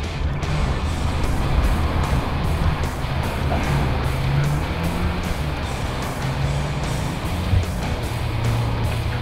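Race cars on a dirt track rolling to the start, a steady, dense engine drone with a low rumbling hum that holds level throughout, with no voices.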